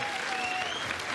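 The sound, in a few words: audience applause at a hearing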